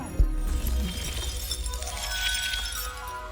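Glass shatters loudly in the video game Hogwarts Legacy, with a sharp impact and then a spray of tinkling shards that rings on for several seconds.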